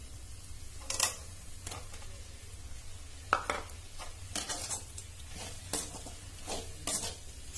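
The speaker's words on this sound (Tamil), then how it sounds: "இப்போ நம்ம அரைச்சி வச்ச மட்டனை சேர்த்துக்கலாம்." Ground mutton is added to a pan and stirred in, bringing a soft steady sizzle under repeated scraping and clinking of a spoon against metal, fairly quiet and close.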